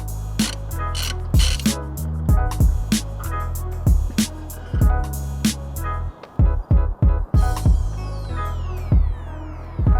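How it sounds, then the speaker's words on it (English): Ratchet undoing a single 10mm bolt holding a car's windscreen washer bottle, a run of quick repeated clicking bursts with short pauses between, close and alone. "There's just one 10mm bolt and the pump to unplug,"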